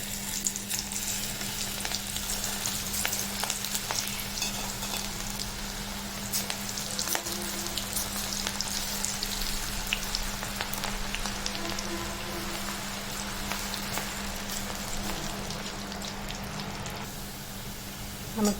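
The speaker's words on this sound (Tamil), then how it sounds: "இப்போ நமக்கு வானலியில் எண்ணெய் ரெடியாக இருக்குது. இந்த பிசைஞ்ச மாவை அதில் கொஞ்சம் கொஞ்சமாக போட்டுருவோம்." Onion pakoda batter deep-frying in hot oil in a kadai, a steady dense sizzle and crackle that stays loud and continuous throughout, with no talking.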